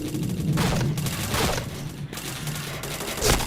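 Bursts of gunfire in a shooting video game, rapid sharp shots in a few clusters over a busy, loud background.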